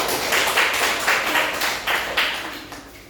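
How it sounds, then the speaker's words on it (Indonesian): Classroom applause breaks out in a short burst of claps, several hands tapping in loose rhythm that fades over a few seconds, close and fairly loud with no talking. "Tepuk tangan Mbak."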